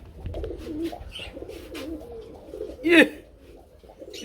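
Pigeons coo softly in the background amid a crowded, noisy pigeon market, with one louder, swooping call near the end.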